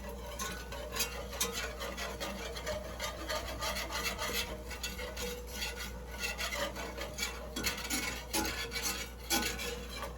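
A whisk scrapes steadily and rhythmically around a pan, stirring a flour roux into gravy for country fried steak. The strokes are close and continuous with no voices.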